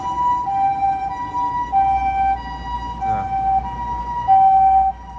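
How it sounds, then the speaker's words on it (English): A Japanese ambulance on an Osaka street sounds a two-tone siren, alternating high and low notes in a steady repeating cycle over street noise, fairly close and loud. "Japanese ambulance, or they say in Japanese, kyūkyūsha, which means emergency vehicle."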